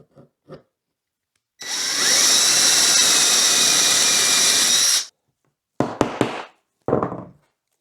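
A power drill whines steadily for a few seconds as it bores down through scrap wood, followed by several hollow knocks and clatters of wood pieces.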